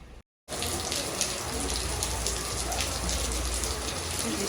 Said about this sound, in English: Like, I don't even understand this rain any longer.